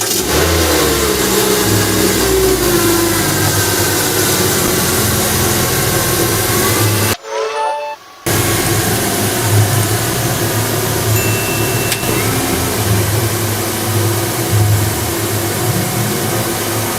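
A 1.6-litre petrol Renault Kaptur engine runs loudly and close in a garage, with revving and shifts in pitch, a brief gap of near silence partway through, then steady running again.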